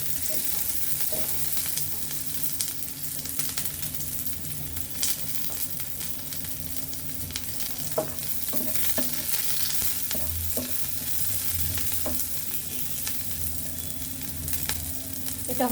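Chopped onion sizzles steadily in a pan for prawn and hilsa fish bharta, with scattered scrapes and clinks of a spoon stirring throughout at close range.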